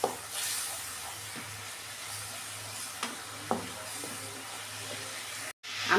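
Spice paste with ginger sizzles in a pan over lowered gas flame while a vegetarian chana dal dish is being cooked, with a soft continuous hiss and occasional stirring scrapes close by.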